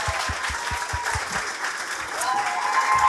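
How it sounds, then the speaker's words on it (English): A crowd at a Williams Racing fan zone applauds the team principal with dense, steady clapping, and a few low thumps sit underneath throughout the short burst. "please give a massive round of applause to the team principal of Williams Racing"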